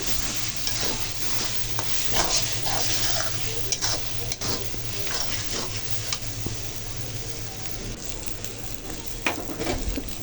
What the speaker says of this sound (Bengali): আর এই যে এখানে হচ্ছে রসুন আর হচ্ছে কাঁচামরিচ টেলে নিতেছি